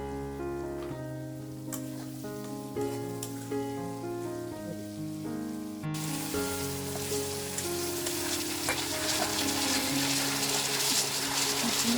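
Garam masala frying in a pan for an Odia fish-head curry, a steady crackling sizzle that rises clearly in the second half after a stretch of background music, close and moderately quiet.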